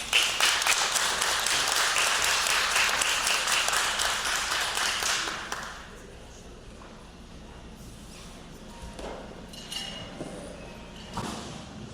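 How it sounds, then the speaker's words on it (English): A luncheon audience gives a guest speaker a loud burst of applause that lasts about five seconds, then fades to quieter room sounds with scattered clinks and thumps. "Please give him a round of applause."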